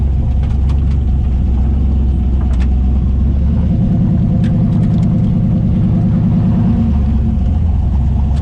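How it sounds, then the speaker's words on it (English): A Ford 6.0L turbo diesel truck with a failing transmission runs close and loud. A deep, steady rumble carries a rapid rattling thrum through the middle of the clip, with occasional faint clicks above it. "the dumb thing is the transmission still works perfectly fine. Like, it's working. It sounds terrible."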